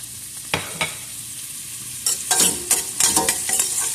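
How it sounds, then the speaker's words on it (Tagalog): Onion and spices sautéing in a pan for Arabic-style white rice, with loud close sizzling and bursts of scraping stirring, sparse at first and then busier and more continuous; no speech. "ilalagay na natin ang ating sibuyas"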